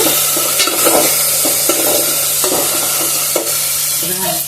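Drumstick pieces stir-fried in a pan, loud close sizzling overlaid with repeated rhythmic scraping and knocking of a spatula against the metal, no one speaking.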